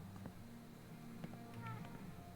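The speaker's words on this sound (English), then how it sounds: "Oh, I hear cat." A cat meows in the video game Life is Strange: True Colors, a few faint, brief meows over a low, steady ambient background.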